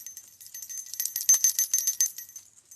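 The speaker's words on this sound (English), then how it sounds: "I love that bell. Love that bell." A small bell rings faintly near a snowy home setting, a quick run of bright tinkling strikes, light and close, with no talking.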